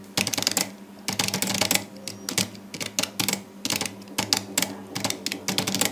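Rapid, continuous clicking comes from a computer keyboard during a typing test, with keystrokes in dense fast bursts and brief pauses, close and clear without speech.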